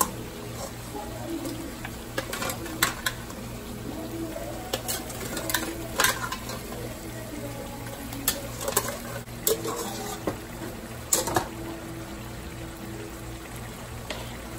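Boiled oxtail meat is stirred in a pot of sautéed spinach, with scattered scraping clinks of the utensil over a soft sizzle. A steady low hum runs underneath and birds coo faintly in the background.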